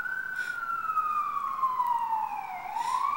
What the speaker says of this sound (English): siren is going off again